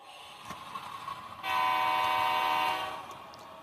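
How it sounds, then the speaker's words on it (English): On a model railway layout, a train horn sounds one sustained tone of about a second and a half over a faint rolling rumble as the train departs. "the crew takes the train out to the switchback and bids farewell to Warsaw for the day"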